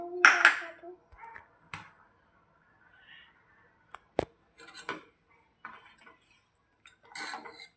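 Spoon scraping and clinking against a bowl as ragda is mixed with green chutney, chaat masala and pani puri masala, a few sharp clacks among quieter scrapes, close and irregular, with brief talk between.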